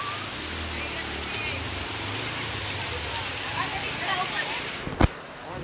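Rain falls steadily in Rapar, a dense even hiss of drops with no pauses, and a sharp knock or clatter breaks through near the end.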